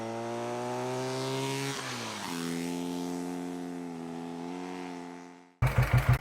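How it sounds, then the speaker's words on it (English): A classic Scott motorcycle engine gives its distinctive rising, wailing yowl, a loud sustained tone that dips and climbs again before fading, then a brief burst of pulsing exhaust at the end. "There is no machine in the world that sounds like the Scott yowl."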